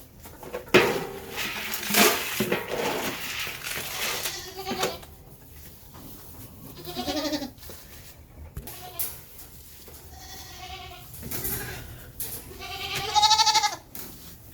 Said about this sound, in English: Hang on, a goat got out.